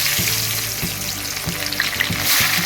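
Thinly sliced onions frying in plenty of hot oil for chicken biryani: a loud, close, constant sizzle with a few regular dull stirring knocks.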